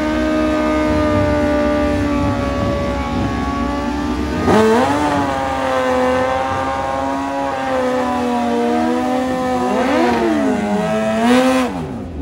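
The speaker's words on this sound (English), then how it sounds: "It'll be the Suzuki Hayabusa taking on the Kawasaki CX-14." A Suzuki Hayabusa and a Kawasaki drag racing on a quarter-mile strip; a loud, sustained engine whine near the listener, with revs surging and dipping at gear changes.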